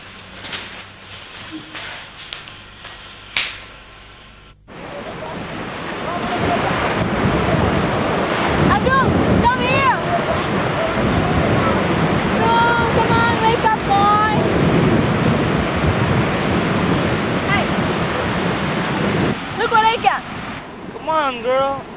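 Surf washes steadily on a beach at an island shore, with wind buffeting the microphone throughout while people talk over it.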